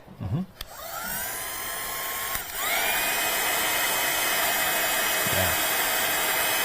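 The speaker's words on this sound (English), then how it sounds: "And then we'll dry that with our gun." A heat gun drying a stencilled craft project roars steadily, starting up and then holding a constant loud whooshing hum with a brief dip partway through, alone without talk.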